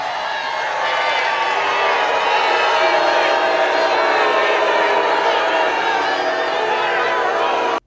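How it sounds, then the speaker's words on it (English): A large political rally crowd boos a senator, a dense, sustained roar of booing and shouting that stays loud and continuous for several seconds before cutting off abruptly. "Okay, so lots of booing."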